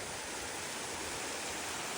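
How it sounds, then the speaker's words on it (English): A stream on the Appalachian Trail rushes steadily in a dense, unbroken wash of water noise, close and constant with no other sounds standing out. "Nice stream here."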